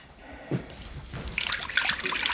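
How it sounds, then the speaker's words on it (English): Warm water pours into a mason jar, starting as a faint trickle and swelling into a bright, bubbling fill that grows louder toward the end. "fill it up with warm water"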